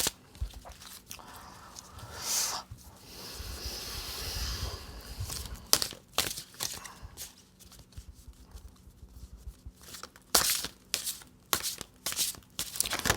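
A deck of oracle cards being shuffled by hand gives a run of papery riffles, slides and taps, close and irregular, with bursts of crisp flicking near the end.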